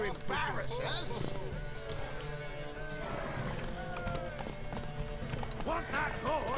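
Video-game horse galloping with rhythmic clip-clop hoofbeats throughout and occasional whinnies, steady and close, under a voice talking over it.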